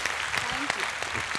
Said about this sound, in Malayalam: നല്ലൊരു ക്ലാപ്പ് കൊടുക്കും.